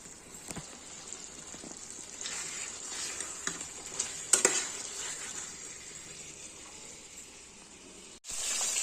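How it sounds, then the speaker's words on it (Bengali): Fish frying in a pan, a soft steady sizzle close by with occasional clinks and scrapes of a utensil against the pan, ending in a short break and a louder hiss. "মাছ ভাজা করা হচ্ছে"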